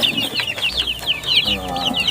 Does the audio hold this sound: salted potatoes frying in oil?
no